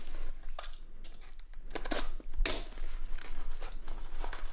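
Paper wrapper around the packaging of a Rides in the Storm TUL Eurorack attenuator module crinkles and rustles close up, in several sharp bursts of handling with quieter rubbing in between.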